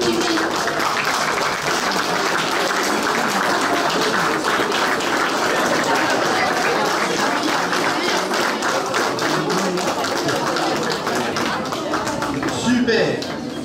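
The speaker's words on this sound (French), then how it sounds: "Vous pouvez les applaudir" An audience at a cosplay contest applauds continuously for over ten seconds, a dense clatter of many hands with a voice talking over it.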